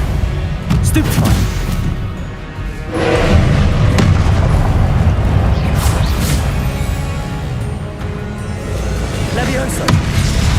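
Spell effects from Hogwarts Legacy: dense, loud magical blasts and crashing booms layered over a continuous rumbling bed, with a voice calling out spell names through much of it.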